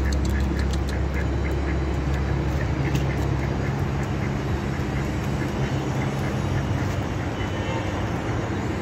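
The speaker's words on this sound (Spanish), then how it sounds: "Allá andan de cotorreo los patos" Ducks quacking along Paseo Santa Lucía, a riverside walkway, with a run of repeated quacks in the first seconds over a loud steady outdoor rumble.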